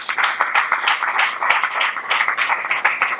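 Dense clapping from an audience at a Dr. Babasaheb Ambedkar birth anniversary puja and satsang gathering, steady and continuous throughout, moderately loud with no voices over it.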